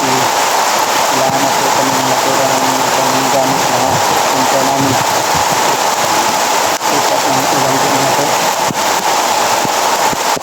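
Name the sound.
rain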